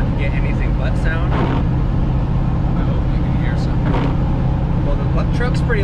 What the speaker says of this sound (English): Truck's pretty loud too